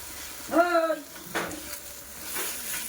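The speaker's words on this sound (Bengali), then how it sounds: "সাবুদানার সাথে খুব ভালোভাবে চিনিটা মিশিয়ে নেব। ধীরে ধীরে চিনি গলতে শুরু করবে।" Sabudana and sugar are stirred in a pan over a gas flame, soft scraping and light sizzling heard close by, with a brief voice near the start.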